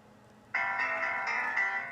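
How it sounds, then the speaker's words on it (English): An iPhone 5 plays its piano riff ringtone, a bright repeating keyboard phrase that starts abruptly after a short quiet stretch and carries on steadily at moderate volume, with no talk over it. "Alright, so piano riff it is."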